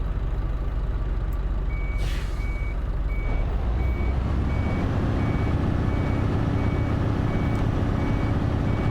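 Dirty truck reversing, its backup alarm beeping at steady intervals over a loud rumbling diesel engine with a brief air-brake hiss, close and continuous.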